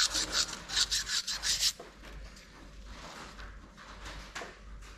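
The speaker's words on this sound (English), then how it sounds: "what you want to do is you want to polish it, something like 1200 emery tape" Fine 1200-grit emery tape is rubbed over a Mitsubishi 4G64 engine oil pump part in a run of quick, rhythmic scratchy strokes, then fainter, softer rubbing, close up with no speech.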